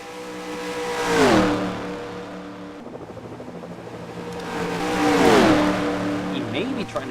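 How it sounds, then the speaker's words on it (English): Stock cars in the NR2003 NEXTEL Cup Series racing game roar past twice during a Daytona 500 last-chance qualifying race, each pass rising loud and then dropping in pitch as it recedes. A steady engine drone continues between the passes. "So Shelmerdine, the only car left to pit."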